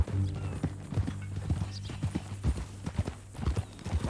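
Horse hooves clip-clop steadily in a Western ranch setting in Red Dead Redemption 2, a rhythmic run of clear, fairly close hoofbeats with faint low background tones.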